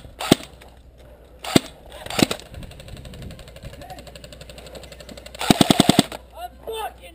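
Airsoft guns fire at an outdoor airsoft park in California: a few sharp single cracks early on, then a quick rattling burst of about six shots near the end, with faint voices around the shots.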